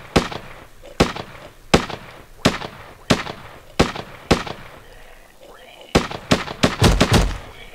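Assault rifle fire in the survival game HurtWorld, sharp single shots spaced about a second apart, then a faster cluster of rapid shots near the end, loud and close.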